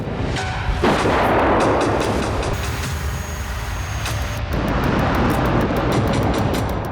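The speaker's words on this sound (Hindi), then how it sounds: "रूस डोनेस्क में फाब 500 बम से हमले कर रहा है।" FAB-500 bombs strike in Donetsk amid heavy bombardment, heard as loud, continuous, heavy roaring rumbles with abrupt shifts between segments. No speech is heard.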